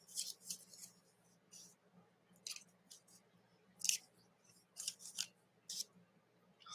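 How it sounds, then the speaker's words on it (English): Spring-loaded Timmy scissors snip repeatedly in crisp, close, quiet cuts, an irregular series of sharp snaps separated by brief pauses, with no talking. "you got the new Timmy scissors with the spring, whatever thing he called it"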